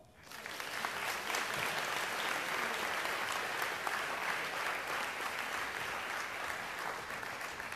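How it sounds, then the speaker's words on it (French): Sustained applause from an audience at an eloquence contest final, a dense, even wash of clapping that swells in quickly and holds strongly for several seconds with no talk. "Je vous propose d'accueillir et d'applaudir Aurore."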